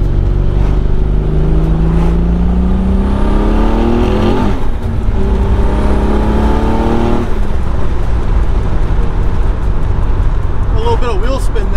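A built twin-turbo Nissan 300ZX accelerates hard with its wastegates open, the engine note sweeping upward through repeated rising pulls with a brief spell of wheel spin, loud and close throughout.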